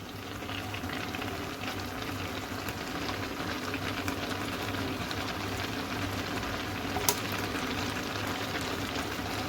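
Carrot halwa with desi ghee cooking in a pan gives a steady, soft bubbling sizzle throughout, close and even, with one brief clink partway through.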